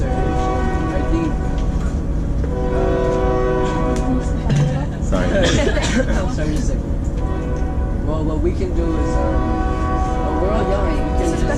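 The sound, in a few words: train passing with horn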